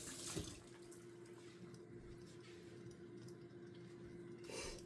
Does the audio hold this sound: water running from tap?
yes